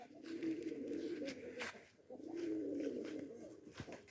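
Rajshahi pigeons cooing close by, one steady rolling coo followed by a short pause and then a second long coo, with no voices.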